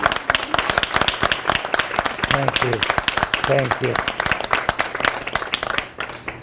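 An audience at a veterans recognition event breaks into steady, dense applause, loud and close throughout, while a voice speaks briefly over the clapping.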